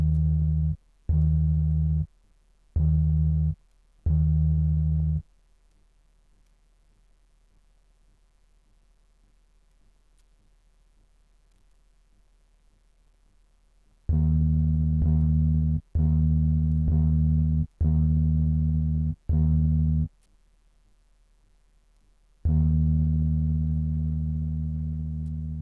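An Arturia CMI V Fairlight software synthesizer plays sustained tones built from added partials. Clean steady notes come in short repeated bursts and longer held blocks, with silent gaps between them.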